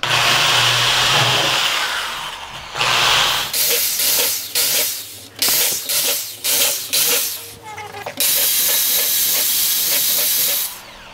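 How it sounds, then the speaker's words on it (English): A small power drill with a small bit whines in repeated bursts drilling ventilation holes in a compost tumbler, starting and stopping several times with brief gaps, close and loud, ending with a longer sustained run. "Just drill some holes."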